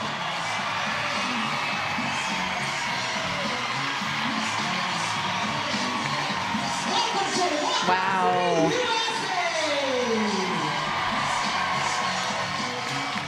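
A huge home crowd at a professional softball game roars after a walk-off win for Portland, sustained cheering and whoops under excited commentary.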